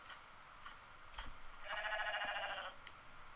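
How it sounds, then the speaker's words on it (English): A sheep in the Rising World game gives one clear, fairly loud bleat lasting about a second, with faint game ambience and small clicks around it. "I do have a sheep stuck over here"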